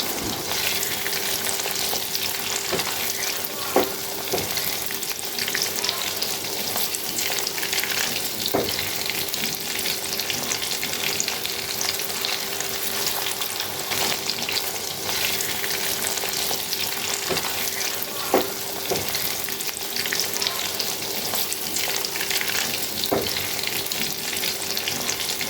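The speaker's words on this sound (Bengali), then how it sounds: "গোল গোল করে সামান্য চেপে গরম তেলে একে একে সবগুলো বড়া বানিয়ে কড়াইয়ে দিয়ে দেব" Poppy seed paste fritters fry in hot mustard oil in a wok, a steady, even sizzle with occasional small pops and crackles, close and continuous, no talking.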